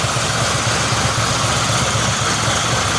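A Yamaha XS850 motorcycle engine runs after a carburettor installation, with cylinder number one misbehaving, giving a loud, close, steady idle with a low pulsing throb and no voices.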